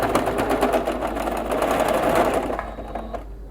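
Sewing machine stitching through denim for a tech sleeve, a close, steady rapid chatter of needle strokes that slows and fades near the end.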